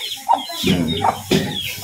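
Free-range village chickens on a farm cluck repeatedly and close by, several short clucks and calls in quick succession with no talking.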